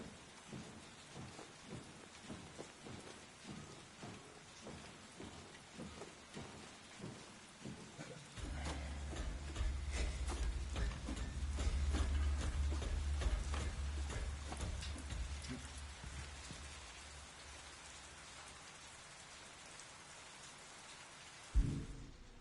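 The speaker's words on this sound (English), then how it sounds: "Not with this rain." Rain in the Silent Hill 2 Remake game, a steady patter that swells midway into a heavier, rumbling downpour with a low thunder-like roll, ending in a sharp low thump.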